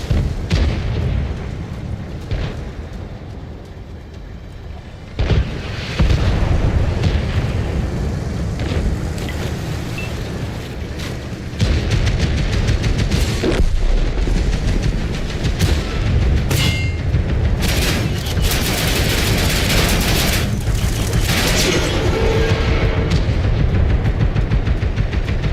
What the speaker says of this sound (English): Background there getting zesty with its auto cannon.